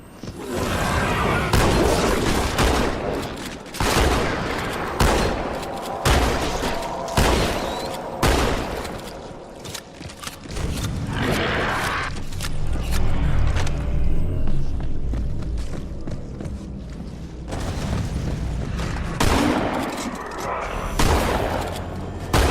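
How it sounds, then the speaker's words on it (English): Heavy suppressive gunfire in a Halo battle, with repeated loud volleys and booms through the whole stretch and soldiers shouting between the bursts. "Suppressive fire! Suppressive fire!"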